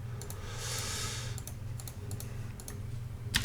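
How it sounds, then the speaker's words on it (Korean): Typing on an inexpensive mechanical keyboard, with a steady stream of clicky keystrokes and periodic sharper clusters of clacks, heard close and alone over a low background hum. "키보드라도 또각또각 하면 기분이 좋거든요"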